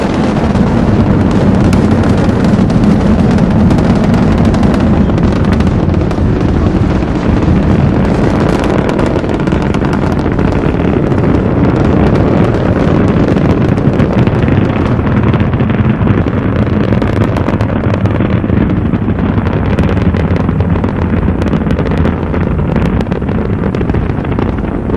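Space Shuttle Discovery on the STS-29 launch, a loud and steady broadband rocket roar with crackle that holds continuously throughout, with no voices.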